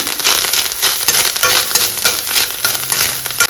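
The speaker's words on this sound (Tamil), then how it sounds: "கொஞ்சமாக திருகின தேங்காய் அதையும் அப்படியே வறுத்துக்கலாம்" Freshly grated coconut roasts in a hot pan for an egg curry, giving off a loud, continuous crackling sizzle with scattered pops close up and no talking.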